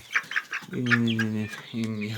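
Young roosters, two and a half to three months old, cluck and call in a backyard coop, short sounds and a couple of sustained calls close by.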